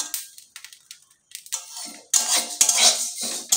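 Rice grains dry-frying in a pan give sparse, light clicks at first, then a denser rattling crackle with scraping, close by and with no talk.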